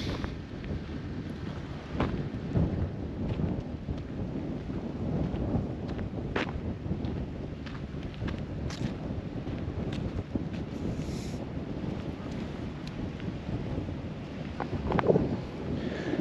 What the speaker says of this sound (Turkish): Burası açık olduğu için önü, çok deli rüzgar var burada.